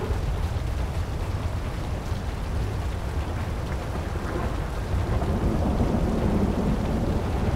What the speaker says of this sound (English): The lightning's always very loud in this game.